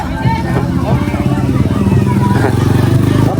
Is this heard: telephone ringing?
no